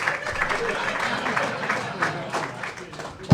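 Audience applause at a Jersey Jack Pinball presentation: a dense, steady patter of many hands clapping with crowd murmur, moderately loud throughout, ending in a sharp low thump.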